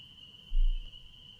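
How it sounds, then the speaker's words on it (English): A steady, high-pitched insect trill holds constant throughout, like crickets at night, with a brief low rumble in the middle. "And listen to the crickets."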